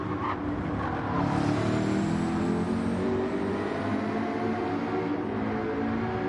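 Race cars from a racing video game lapping, a loud sustained engine drone that swells after the first second and holds steady, engines overlapping with no voices.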